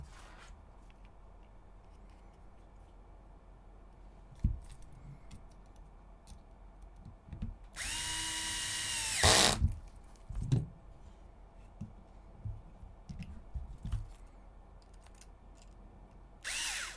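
A power drill drives bolts into nuts on an HPI Venture SBK RC car build, with one loud whirring burst of about two seconds set among quiet clicks and handling noises.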